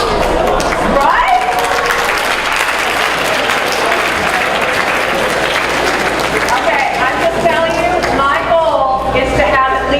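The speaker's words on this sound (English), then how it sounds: "at least that much applause as the Cheetos product did" An audience applauds steadily for several seconds during a product presentation about Cheetos Sweetos, with loud, dense clapping throughout and a voice briefly heard over it.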